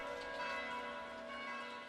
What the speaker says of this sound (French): la cloche du village sonne